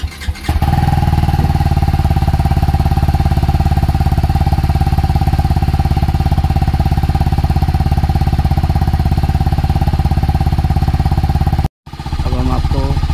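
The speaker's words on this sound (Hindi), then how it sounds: "अब हम बाइक को स्टार्ट करते हैं." A 2023 TVS Apache RR 310 E20 motorcycle starts up and settles into a loud, steady idle close by, the engine cutting out briefly near the end before restarting.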